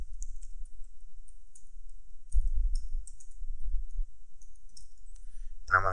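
Website URL typed on a computer keyboard, soft sparse key clicks in short bursts, close and quiet, with a voice starting right at the end.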